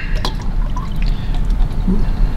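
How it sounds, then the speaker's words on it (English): Concentrated coolant poured into the cooling system of a Dodge Grand Caravan 3.6 V6, a steady close glugging trickle of liquid running continuously with small splashes. "And then next, add your coolant."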